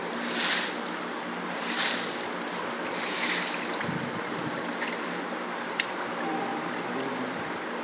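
Rushing water from a borewell being flushed with motor-pumped water, a steady broad roar with a few surging gusts, loud and continuous with no talk.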